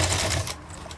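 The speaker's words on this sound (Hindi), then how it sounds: "इसके ऊपर हम अपनी सिलाई को कंप्लीट करेंगे।" Sewing machine stitching double fabric piping onto a sleeve border, a brief close, steady mechanical whir that stops partway through.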